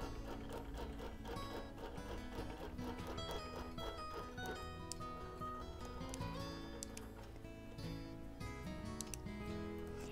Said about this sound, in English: I'm just running a basting stitch down this right-hand edge again.